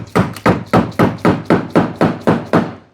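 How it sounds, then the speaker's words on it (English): Hammer striking a chisel on truck wheel well trim on a third-generation Ram, ten sharp, evenly spaced metallic blows in quick steady rhythm, close and loud. "So I am down to hammer and chisel."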